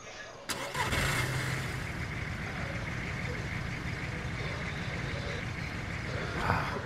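A car engine in the survival video game DayZ starts with a sharp click and then runs at a steady, droning idle for several seconds, with players talking over it.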